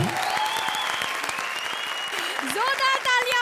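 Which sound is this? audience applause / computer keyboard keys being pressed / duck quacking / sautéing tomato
audience applause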